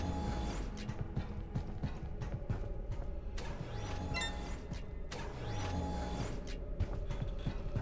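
An automatic door in the video game Stardrop grinds open with a mechanical creak, and a second similar sweep follows, over a steady eerie sci-fi ambience.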